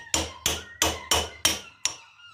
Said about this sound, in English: get my old faithful rusty hammer here